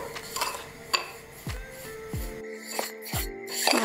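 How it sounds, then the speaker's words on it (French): Vegan strawberry tart batter stirred by hand in a bowl, with a utensil scraping and clinking against the sides in a loose, irregular rhythm, several sharper knocks standing out close up, no talking. "Je mélange un petit coup."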